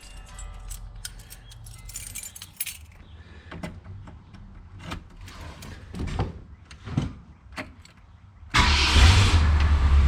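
A 1966 Ford Galaxie 500 convertible, unused for weeks, is approached with door and key handling clatter before its engine cranks and catches into a loud, steady rumbling idle near the end.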